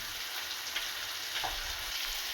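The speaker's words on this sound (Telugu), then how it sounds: "మంచిగా ఫ్రై అవుతున్నాయి." Appalu, festival sweets, frying in hot oil, giving a steady, even sizzle throughout with a few faint stirring sounds.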